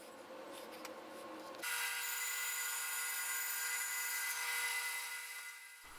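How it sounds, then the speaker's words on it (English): A belt sander shapes a wooden sword blade for a Kokiri Sword cosplay prop, starting after a moment of quieter handling and then holding a steady high-pitched whine and grinding hiss, close and continuous, before cutting off at the end. "I just thought I'd have more control in taking it to a belt sander."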